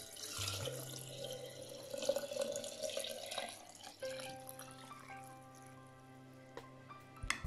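Cold tap water runs steadily into a 5-litre jar for elderflower syrup, a continuous splashing fill with a faint hum underneath, its tone shifting midway as the jar fills.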